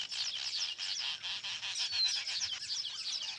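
A noisy colony of weaver birds calling at once, a dense continuous chatter of overlapping chirps and trills close by, with a faint low croaking of frogs underneath.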